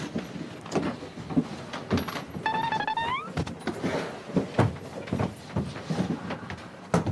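An elevator door slides along its track as it is held open, with a brief rising electronic chime partway through, under a busy, crowded indoor space.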